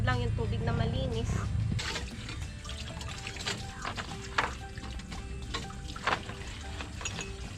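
Water running and splashing for rinsing dishes on a rural farm, a continuous pouring trickle with scattered clinks and splashes, close by, with voices talking over it.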